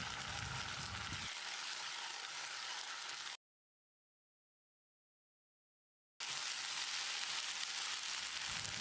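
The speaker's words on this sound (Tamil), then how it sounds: "2 டேபிள் ஸ்பூன் இஞ்சி பூண்டு விழுது சேர்த்து பச்சை வாசனை போகிற அளவுக்கு ஃப்ரை பண்ணிக்கலாம்" Two tablespoons of ginger garlic paste fry in a pan over golden onions for restaurant-style chicken biryani, giving a steady, soft sizzle, briefly broken by a sudden silent gap before the hiss resumes.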